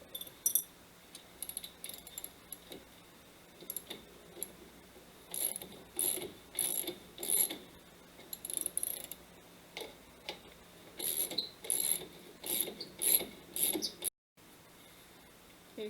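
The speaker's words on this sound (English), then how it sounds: "we're using an adjustable wrench to hold the bolt that you can't see in place, and a ratchet on this side." A ratchet tightens a bolt on a car's left rear trailing arm while an adjustable wrench holds the far side. It gives several close, quiet bursts of rapid clicking separated by pauses, with no talk.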